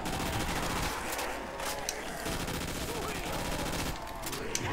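AK-74U gunfire in a Call of Duty custom zombies game, rapid automatic bursts rattling continuously over game noise, with brief pauses between volleys.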